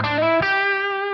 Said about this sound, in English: I also wanted to add in a couple lead type tones with the Tube Screamer just to smooth that tone out a bit.